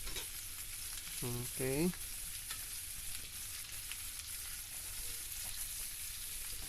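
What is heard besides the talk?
garlic and onion sautéing in pan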